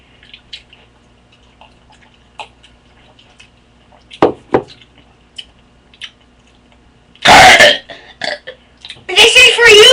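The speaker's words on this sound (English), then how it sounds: "he's going to be burping for you guys, and he has lemonade" A boy burps after drinking lemonade: a few short close burps, then two long loud drawn-out belches near the end, with small gulps and faint sounds between.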